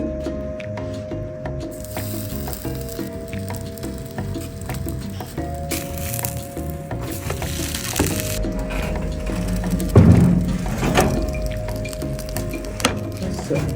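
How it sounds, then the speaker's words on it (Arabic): Hawawshi bread toasting in a frying pan with a light film of oil on a gas stove gives off steady crackling, sizzling and crunchy scraping, with a louder crunch near the end. "سمع القرمشه والحرمشه والجمال كله"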